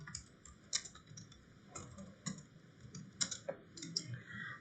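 Someone types C++ code on a computer keyboard, producing quiet, close clicking keystrokes in short irregular runs with brief pauses between them.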